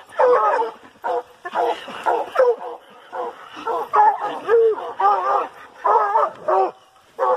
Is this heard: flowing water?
no